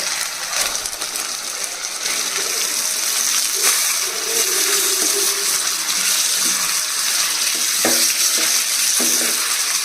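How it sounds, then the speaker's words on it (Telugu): Marinated raw prawns sizzle in a pan of fried ginger-garlic paste for a prawn pulao, a continuous loud hiss broken by a few sharp scrapes and clatters of stirring. "ఇప్పుడు మనం మ్యారినేట్ చేసి పెట్టుకున్న ఈ పచ్చిరొయ్యలు వేసేసుకోవాలి"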